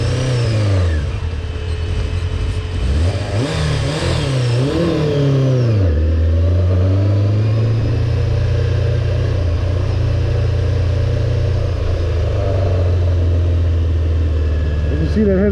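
A Honda CBR600F4 motorcycle engine, just back from a carburetor rebuild, revs up and stumbles, surging and hesitating before settling into a loud, steady idle close by.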